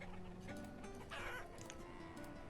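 Chickens cluck in the farming video game Banished, giving a few soft, quick clucks over a steady low background hum.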